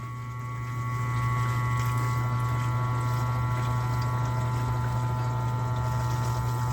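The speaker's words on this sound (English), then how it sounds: "we're going to test the regular pump, right? And there she goes" Regular water pump in a rural home water system starting up and settling into a steady, close electric hum with a constant motor drone and water rushing through the lines.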